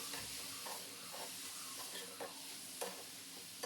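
Palak (spinach) is stirred in a hot pan, soft and faint, with a steady hiss of sizzling and a few gentle scraping strokes spaced through the short stretch.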